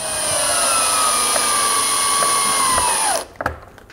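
A cordless driver sends two screws through roof window flashing on a plain tile roof. The motor gives a steady whine for about three seconds, its pitch sliding down as the screw seats, then stops, followed by a few light clicks.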